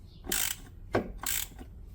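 Ratchet wrench tightening on a Toyota MR2 transmission being serviced: three close, distinct bursts of rapid clicking separated by brief pauses, no talk.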